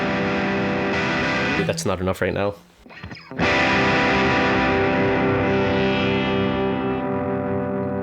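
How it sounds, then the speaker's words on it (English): An electric guitar played through an Animals Pedal Push and Pull distortion pedal rings out in loud, sustained, heavily distorted chords, briefly broken by a short spoken phrase before the crunchy tone returns. "Let me just show you what my distortion pedal sounds like real quick."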